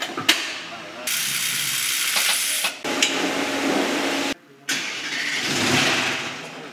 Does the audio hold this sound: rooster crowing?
no